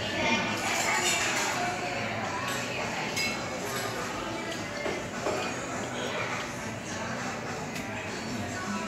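Glasses clink together in a toast at a casual gathering over raw oysters with spicy sauce, the light chinks sitting under lively talk and laughter in a busy, noisy room.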